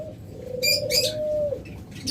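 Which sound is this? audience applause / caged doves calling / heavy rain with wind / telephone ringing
caged doves calling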